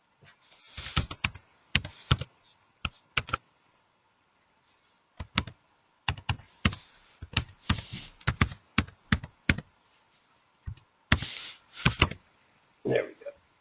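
Close, crisp computer keyboard typing comes in quick bursts of keystrokes as an email address is entered, separated by short pauses and occasional louder clicks, with no talking.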